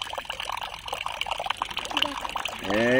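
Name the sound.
mobile phone being dipped into water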